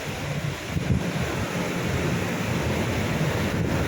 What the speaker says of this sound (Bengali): এখানে কিন্তু জল চলে আসছে দেখো